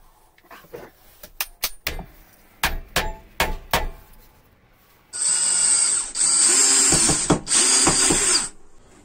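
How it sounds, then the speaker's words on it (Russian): A power tool grinds the edges of a homemade tool cut from an old shovel: a run of sharp, separate metallic clacks first, then loud, steady, high grinding bursts with brief pauses between them, and no one speaking. "сейчас немножко края заточу, чтобы она заходила"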